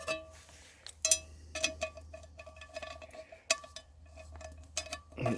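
A cast iron skillet handled over an open cooking fire, with sharp metallic clanks and knocks at irregular intervals over a low steady rumble, no talk.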